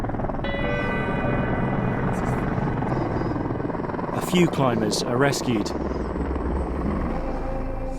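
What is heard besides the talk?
helicopter flying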